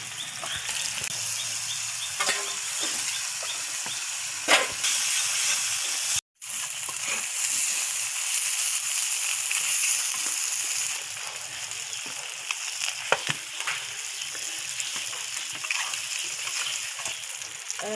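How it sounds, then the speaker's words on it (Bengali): Fish liver seasoned with salt and turmeric fries in hot oil, giving a steady, close hiss and crackle that runs on with one brief gap and scattered small pops. "কলিজার মধ্যে লবণ আর হলুদ দিয়েছি আর এখন তেলের মধ্যে দিয়ে দিলাম"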